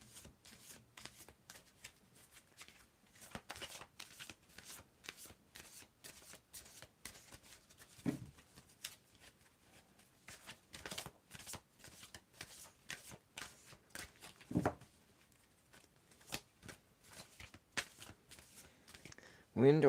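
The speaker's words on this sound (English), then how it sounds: "I need you to tell me when to stop shuffling" Tarot cards shuffled repeatedly in quick riffling bursts, close and fairly soft, with brief pauses between runs.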